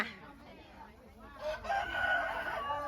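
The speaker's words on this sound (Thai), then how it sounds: "ปีระวังไก่จิกนะ" A rooster crows faintly at a distance, its drawn-out call rising midway through amid quiet ambient noise.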